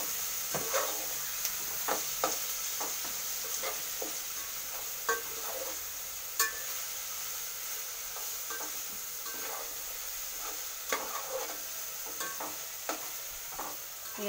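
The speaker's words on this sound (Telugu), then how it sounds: "ఇక కలుపుతున్నాడు చూడండి" Ingredients fry in hot oil under a steady sizzle while a utensil stirs them, scraping and tapping the pan in irregular close strokes; no talking.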